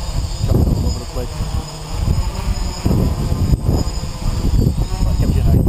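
A DJI NAZA GPS quadcopter hovering and flying in high winds gives a steady, close motor whine over heavy low rumbling buffeting that swells and dips throughout.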